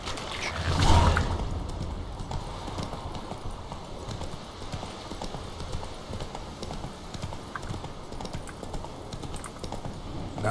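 Horse hooves clip-clop steadily at a quick pace in the video game The Witcher 3, with a busy ambient background and a brief louder thump near the start.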